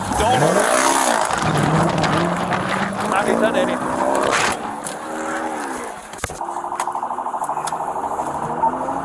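A Dodge Charger's engine roars as it flees police, a loud revving and climbing whine with possible tire noise, heard close under overlapping talk and radio chatter.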